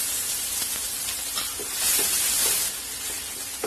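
Chopped green chillies sizzle with ginger garlic paste in hot oil in a pan for vada pav, a close steady frying hiss that swells briefly midway, a few light stirring taps, no voices.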